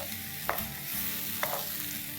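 Spoon scraping and stirring mutton dal gosht with garam masala, coriander and fried onions in a pan, with two distinct clinks against the metal over a steady low sizzle.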